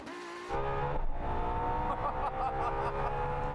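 Supercars accelerating hard in a rolling race from 100 km/h in third gear: McLaren P1, Ferrari LaFerrari and Porsche 918. A loud, sustained high-revving engine roar begins abruptly and holds steady, with harmonic whine rising over it.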